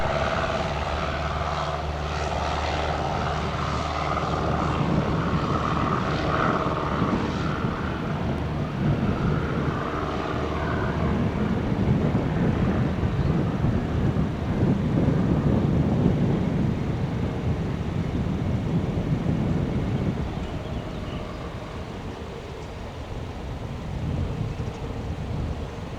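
Propeller aircraft taking off from runway 26 left at Spirit of St. Louis Airport, a steady engine drone swelling and then fading over about half a minute, with wind noise on the microphone.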